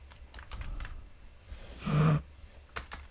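Java code typed on a computer keyboard: bursts of close, quick key clicks with a brief louder clatter midway, no voices.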